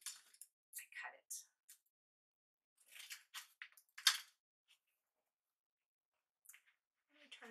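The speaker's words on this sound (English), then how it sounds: "So now I just take the tape, keep it on the edge, and then I cut it." Tape is snipped and torn at the edge of a fluid art painting during dust-cover backing, giving a few short, crisp cutting and crinkling bursts close by with silent gaps between.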